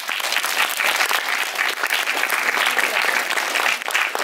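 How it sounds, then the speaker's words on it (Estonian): Sustained, dense applause from an audience at a short-film event, loud and even throughout, with many hands clapping at once and a faint crowd murmur beneath. "Et suur aplaus ka neile."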